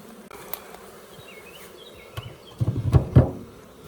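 Honey bees buzz around a hive where a swarm is settling, faint scattered passes at first, then a close, louder cluster of buzzing near the end.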